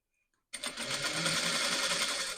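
A sewing machine stitches the neck piece of a blouse, starting abruptly after a brief near-silence with a fast, loud, continuous mechanical whirr.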